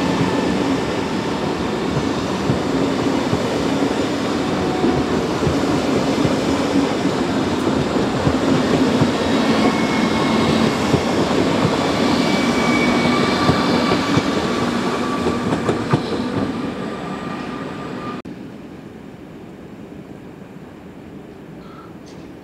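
A Eurocity Express train pulling out of Spiez station: loud, continuous rolling rumble and rail clatter with faint wheel squeal, holding steady before fading as the train draws away.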